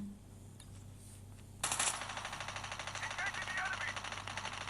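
Automatic gunfire in a Call of Duty Mobile firefight, starting abruptly after a quieter stretch and continuing as rapid rattling bursts at moderate distance under faint background noise.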